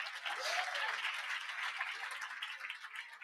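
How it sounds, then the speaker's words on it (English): A crowd at a 25th anniversary celebration applauds, many hands clapping in a steady, fairly faint wash that holds for a few seconds without letting up. "let's give them all a round of applause"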